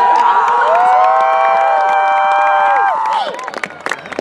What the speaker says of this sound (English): this is an unbelievable crowd